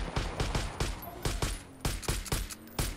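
Rapid, evenly spaced gunshots from the video game Far Cry crack out one after another in a steady rhythm, loud and close, with no talking.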